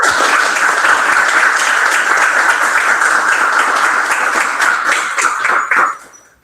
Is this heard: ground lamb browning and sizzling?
no